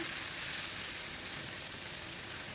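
Onion, tomato and chili-powder masala frying in a pan, a steady close hiss that keeps on evenly and fairly quietly, with no talk.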